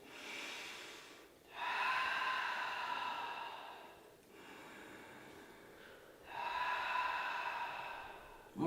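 Deep, slow breathing from a person doing a seated leg stretch to relieve prolonged sitting: three long, airy breaths, close and quiet, separated by short pauses, with no talking.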